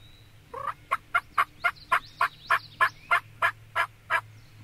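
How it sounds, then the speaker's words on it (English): A wild turkey gobbles in the open, a clear run of about fourteen rapid, evenly spaced throaty notes at moderate distance, with no voices. "there wasn't no doubt that I was going to shoot that turkey"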